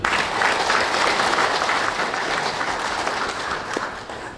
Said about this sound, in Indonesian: Mari tepuk tangan dulu.